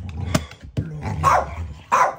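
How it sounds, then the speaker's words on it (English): A dog barks and growls in a video game, heard as a few loud, close, rough barks spaced over about two seconds with growling between them and no talk. "You bloody dog, move."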